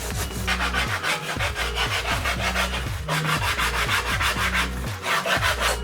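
Foam linings are trimmed to fit under the rubber lip seal of a glass fibre and carbon fibre headless guitar case, giving loud, continuous rhythmic rasping strokes over a steady low hum.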